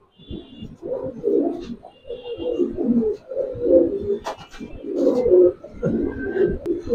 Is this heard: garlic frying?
no